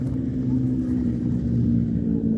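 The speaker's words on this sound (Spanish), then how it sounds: "Mucho ruido de auto, ¿no?" Steady car traffic rumbles nearby in a park, a continuous low drone of passing road vehicles with no clear pauses.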